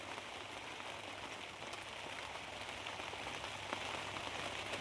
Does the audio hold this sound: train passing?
no